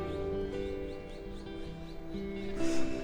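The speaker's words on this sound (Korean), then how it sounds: "산새소리에 이끌려서 올라가게 되네요." Wild birds in a wooded hillside area in Gwanak-gu, Seoul, give a series of small, faint repeated chirps a short distance off, under a low background hum of the outdoors.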